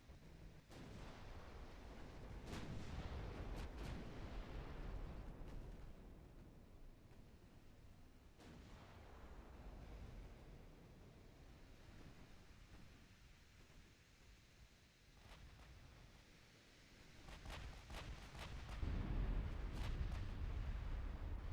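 Naval artillery in the Ultimate Admiral Dreadnoughts war game, with heavy booming gunfire and rumbling blasts swelling and fading over a continuous roar, growing louder toward the end.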